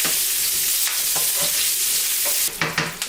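Onion sizzling in melted butter in a pan, a steady bright hiss with soft stirring scrapes, then sharper spattering bursts near the end, close and loud with no talking.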